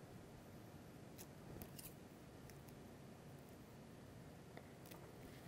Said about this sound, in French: c'est important d'avoir des ciseaux, des bons ciseaux, parce que le plastique, il glisse quand même.